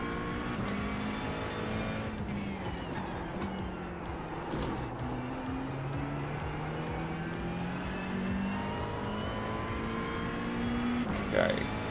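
An LMP2 prototype race car in a night stint of a Daytona 24-hour racing game howls past, its engine tones rising and falling over a steady roar of other cars, with a voice faintly under it.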